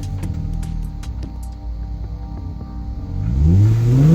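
Hyundai Genesis Coupe 3.8-liter V6 idling with a steady low rumble and ticking, then roaring louder as the revs climb sharply toward the end, heard up close.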